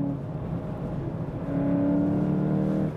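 Engine of a 2018 VW Polo GTI or Golf GTI pulling along a racetrack behind an instructor's car, a close steady drone that climbs in pitch and grows louder halfway through as the car accelerates.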